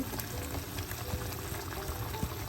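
Fenugreek curry simmering in a pot, a low steady bubbling with soft liquid pops, close and continuous, no voices.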